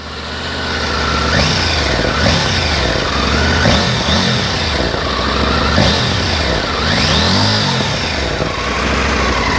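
A 2021 Triumph Tiger 900 GT Pro motorcycle engine idles steadily close by, with a low throbbing rumble, slight exhaust rasp and occasional small rises in revs, continuous throughout.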